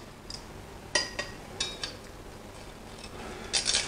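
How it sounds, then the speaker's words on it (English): A knife cutting into a bacon bomb of bacon wrapped around pork, giving a few sharp clinks and light scrapes against a plate, spaced irregularly over a quiet background. "all we have to do is just cut into our bacon bomb"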